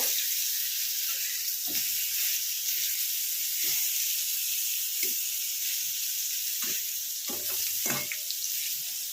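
Eggplant fries in oil with a steady, moderate hiss, scattered with small pops and occasional clicks of a utensil.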